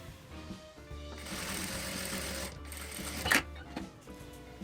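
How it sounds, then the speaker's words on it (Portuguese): Sewing machine running a straight seam across folded fabric, a close, steady motorized hum with a sharp clack near the end. "vou passar uma costura reta por toda essa parte"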